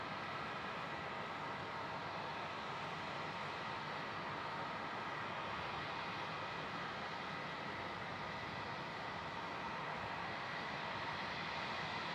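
Jet aircraft taking off on the crossing runway at Melbourne Airport, a steady broadband roar heard from a distance that holds constant throughout with no voices.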